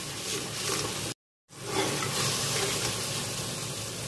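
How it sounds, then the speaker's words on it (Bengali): Spiced masala sizzling and frying in oil in a pan for a jackfruit dish, a steady soft hiss broken by one brief silent gap. "ভালো করে মশলাটা কষিয়ে নেবো একদম"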